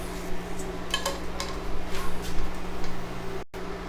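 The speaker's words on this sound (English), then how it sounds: "you just want to take your whisk and stir it up from time to time while you're keeping it warm" A whisk stirs a sauce in a pan as it is kept warm for an open-faced shrimp and broccoli grilled cheese, giving soft intermittent metallic clinks and scrapes over a steady low kitchen hum.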